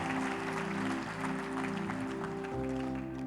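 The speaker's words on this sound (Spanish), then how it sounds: "Denle un aplauso al Señor." Applause from a church congregation during a sermon, many hands clapping steadily under sustained keyboard or organ chords that shift partway through.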